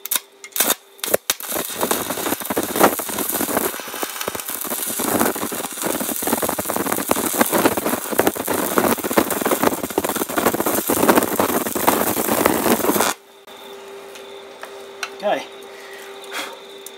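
Stick welding thin steel with a thin rod on a fractured floodlight bracket, a loud crackling, sputtering arc that runs steadily for about twelve seconds after a few short strikes, then stops abruptly, leaving a quiet hum.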